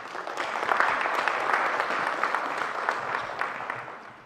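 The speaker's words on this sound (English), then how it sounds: "have a round of applause for yourself and all the accomplishments you guys have done" Applause from a keynote session audience, steady clapping from a sizable crowd with brief peaks and dips, easing off toward the close.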